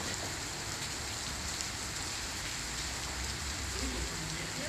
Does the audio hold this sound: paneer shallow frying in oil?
no